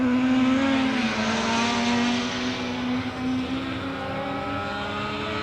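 Racing motorcycles at the 1983 Transatlantic Trophy at Brands Hatch scream past in close company, a sustained high-pitched engine whine with shifting pitch as the bikes race by.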